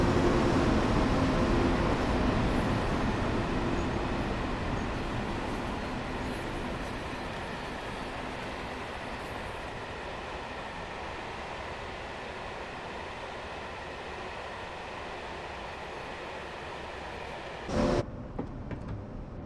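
An ÖBB 1116 Taurus electric locomotive hauling a long train passes by on the Semmering railway in a train simulator game. A loud, steady rolling rumble gradually fades, and a brief knock is heard near the end.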